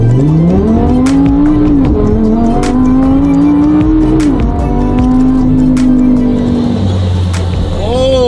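A Lamborghini Squadra Corsa's naturally aspirated engine pulls hard under acceleration, loud and close from inside the car. The revs climb steadily with a brief shift midway, then keep rising before easing off at the end.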